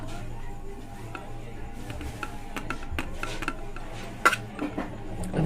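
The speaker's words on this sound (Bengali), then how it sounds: "এই যে ডিমটাও দিয়ে দিলাম, বড়মশাইকে বেড়ে দিচ্ছি" Rice, fried food and an egg are dished onto a plate with soft clinks of a utensil against crockery and one sharper knock, over a steady room background with light speech-like murmur.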